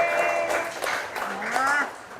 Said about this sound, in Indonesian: Tepuk tangan untuk kelompok B.